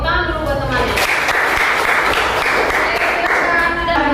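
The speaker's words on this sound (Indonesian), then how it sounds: "tepuk tangan dulu buat temannya" Classroom applause for a classmate, a burst of many hands clapping in a continuous, loud, close patter that runs throughout, with voices mixed in underneath.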